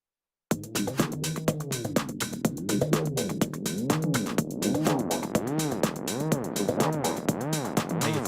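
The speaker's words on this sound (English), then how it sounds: "We're going to have a low pass opening up over time." Tech house synth line with a low-pass filter gradually opening, starting after a brief silence; repeating pulsing notes grow brighter and fuller over time, loud and alone without talk.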